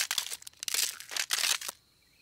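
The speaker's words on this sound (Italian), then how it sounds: "Guardate meglio, si sta rompendo da solo." Cartoon egg cracking open as it hatches, three bursts of crisp crackling and crunching up close, followed by a quiet tail.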